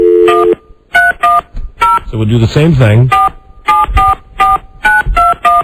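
Touch-tone telephone keypad beeps dial a phone number during a radio call-in show, sounding as short evenly spaced bursts of paired tones with a brief pause while someone speaks in the middle.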